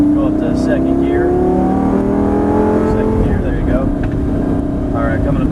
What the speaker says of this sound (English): Start easing on the throttle. Go up to 2nd gear.